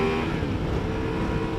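A Ducati Multistrada V4 Rally motorcycle engine, a V4 sports-bike heart, revving hard and steadily, close and loud with a dense broad roar and no pauses.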